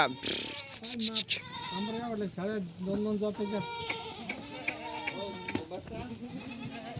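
Goats bleat repeatedly at close range, several wavering calls overlapping in steady succession, while people talk and call out around them near a newly arrived vehicle.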